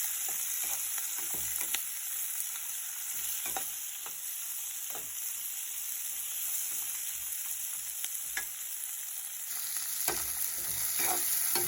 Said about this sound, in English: I'm going to mix all these things together.